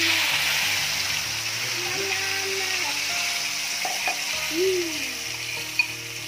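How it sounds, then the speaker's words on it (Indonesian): Spice paste sautés in hot oil for a coconut-milk crab curry, giving a steady close sizzle with faint stirring scrapes and a few clinks. "Minyaknya sudah panas, lalu kita akan menumis bumbu ya."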